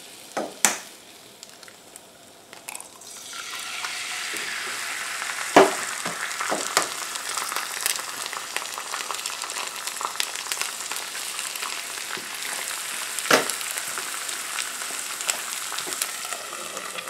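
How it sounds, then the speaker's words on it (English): Eggs and homemade sausage frying in a pan over low heat for an old-fashioned breakfast give a steady close sizzle with crackling pops and a few sharp clicks, with no talk. "the steam will kind of cook the top of the eggs"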